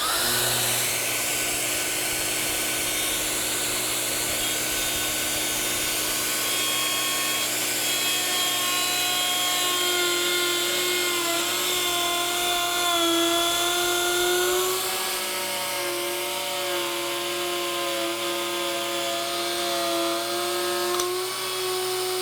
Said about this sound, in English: now I'm going to dial in the router bit to just kiss the stock at the 8-inch point